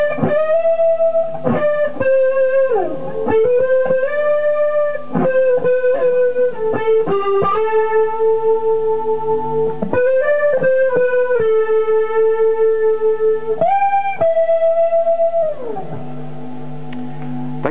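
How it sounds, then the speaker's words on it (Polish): Electric guitar played through a KODA Chorus KD22 pedal, chorus effect on, giving shimmering, slightly wavering sustained notes and chords with pitch bends and slides, clean and upfront with no talking. "W takiej formie chorus brzmi tak trochę psychodelicznie"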